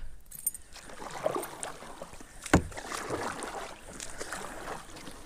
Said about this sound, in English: I am literally just paddling up like little beaver trails